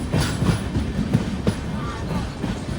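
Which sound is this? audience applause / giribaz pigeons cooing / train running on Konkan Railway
train running on Konkan Railway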